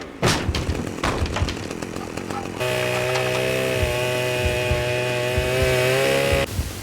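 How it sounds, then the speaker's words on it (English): A chainsaw in the video game Manhunt starts and then holds a steady, loud buzzing whine for several seconds. Thuds and clatter come before it, and it ends sharply. "use the chainsaw to break into Starkweather's room"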